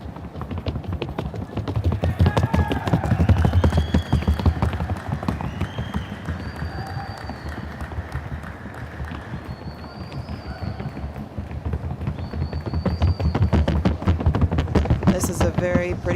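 Paso Fino stallion in the Amateur Fino Stallion Championship show ring, hooves striking the board in a fast, rapid, even patter of clip-clop beats throughout, close and crisp, with faint crowd and wind noise behind.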